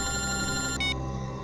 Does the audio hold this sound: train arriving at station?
no